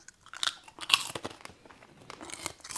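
Bacon-flavored Brazilian snack chips being chewed close to the mic, with irregular crisp crunches and crinkly bites that swell and fade over a few seconds and no talk.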